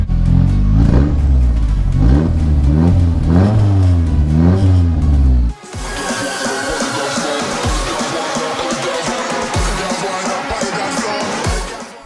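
A Nissan 240sx with an SR20 engine revs hard and smooth for several seconds, loud and close. Then it cuts to a clattering, busier background.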